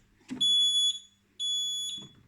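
Nugelec fire alarm system on a test panel going off, two long piercing high-pitched electronic tones about half a second apart, each opened and closed by a soft click, loud and alone.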